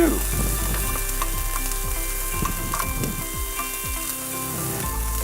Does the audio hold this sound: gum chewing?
no